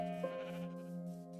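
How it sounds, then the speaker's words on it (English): Sheep in the Minecraft video game give a soft, short bleat early on over a faint, steady tonal background, with no talk. "I know there's sheep over here."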